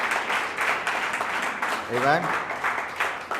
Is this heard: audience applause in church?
yes